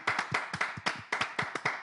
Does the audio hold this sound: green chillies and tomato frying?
no